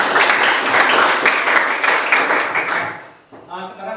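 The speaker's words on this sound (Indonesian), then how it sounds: "Tepuk tangan untuk semuanya." A classroom of students claps together for everyone after presentations, a dense burst of close applause that fades out near the end, followed by a brief spoken voice.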